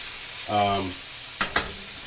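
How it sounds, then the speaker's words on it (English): Noodles for Cajun steak alfredo stirred in a pot: a constant hiss fills the background, a brief vocal sound comes early, then two quick clinks of a utensil against the pot. "I just like to make sure I stir them up periodically."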